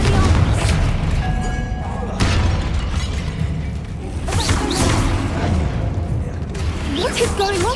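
Confringo blasting spell explosions in a Harry Potter video game, repeated booming bursts and thuds amid busy game noise, with a voice talking over them.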